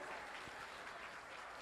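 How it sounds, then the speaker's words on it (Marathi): A crowd at a Dahi Handi festival event claps together, producing a dense, steady wash of applause that holds at an even level for the whole short stretch, with no talk over it. "एकदा जोरदार टाळ्या होऊ द्या आमच्या बाळगोपाळांसाठी"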